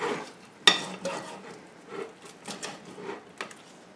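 A knife cuts into an oven-roasted ribeye steak served with potatoes, giving a few soft scraping strokes and a sharp clink of metal against a plate, with faint sizzle-like crackle in between.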